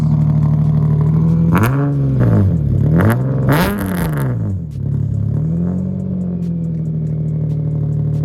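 A Lexus SC300 engine revs hard several times in quick bursts, pitch sweeping up and falling back, then settles into a steady loud idle.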